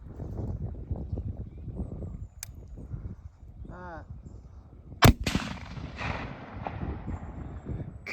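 A Ruger RPR precision rifle fires one sharp, loud shot about midway through, with a ringing tail. Quieter background noise and faint sounds come before and after it.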